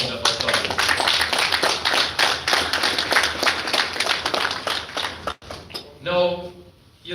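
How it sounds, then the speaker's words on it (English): An audience applauds the ICT team at a PICA Jamaica staff gathering, a dense, steady burst of many clapping hands that stops abruptly near the end before a brief murmur of voices. "I want to give the ICT team a round of applause."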